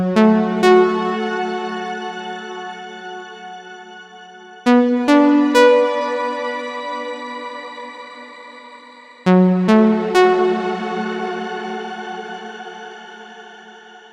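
A guitar played through a Strymon BigSky shimmer reverb sounds three struck chords. Each rings into a long, lush, pitch-shifted wash that slowly decays, with the modulation setting changing between the chords.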